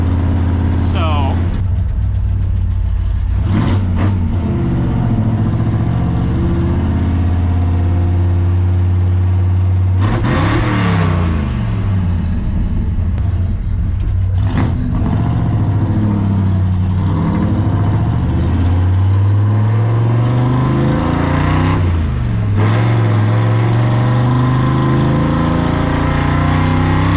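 A high compression Ford F100 truck engine pulls hard on a street drive, its loud rumble rising and falling through repeated acceleration pulls and shifts, with someone talking over it.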